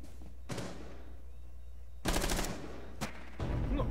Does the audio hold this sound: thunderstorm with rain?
no